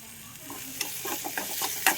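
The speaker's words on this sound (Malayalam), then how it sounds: "മല്ലിപ്പൊടിയും കൂടെ ചേർത്ത് ആ ഒരു പച്ചമണം മാറുന്നത് വരെ ഇതൊന്ന് നന്നായിട്ടൊന്ന് വഴറ്റി കൊടുക്കണം" Coriander powder is sautéed in a pan for a quick egg curry. Faint frying hiss carries light, quick stirring scrapes in a loose rhythm that grows slightly louder toward the end, with no voice.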